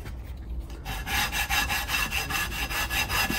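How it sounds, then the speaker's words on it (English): Abrasive polishing block scrubbed back and forth against a limescale-coated pot, a steady rhythmic rasping with regular strokes, close and fairly loud, no voices. "See how nice and clean, shiny it makes the pot. So it gets rid of that lime scale."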